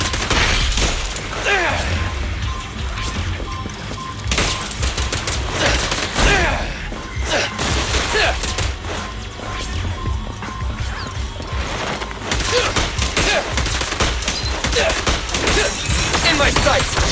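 Rapid gunfire from the action game Zenless Zone Zero, a dense, loud stream of shots and crashing impacts mixed with combat effects running through the whole stretch, with a voice talking over it.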